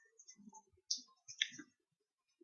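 Computer mouse clicking on the bold button of an Excel formatting bar: a few close, soft clicks, with a sharper pair in the middle and a faint tick at the end, no talk.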